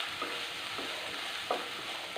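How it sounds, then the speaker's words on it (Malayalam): Onion sautéing in a pan: a quiet, continuous close sizzle with a few soft spoon stirs and scrapes at irregular intervals, no voices. "സവോള ഒന്ന് ചെറുതായിട്ടൊന്ന് വഴന്നാൽ മതി."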